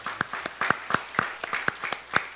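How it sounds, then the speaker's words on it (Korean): Sparse hand claps ring out from a church congregation, a few sharp claps at an uneven pace over a quiet background. "네, 박수하겠습니다."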